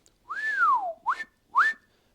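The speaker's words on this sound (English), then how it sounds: "I'm just going to whistle with my mouth" A person whistles with the mouth, as used for Australian dogman crane signals: one long pitch-gliding tone that rises and falls, then two short rising whistles, close, clear and alone.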